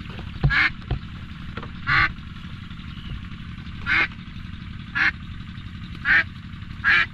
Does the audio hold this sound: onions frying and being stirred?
no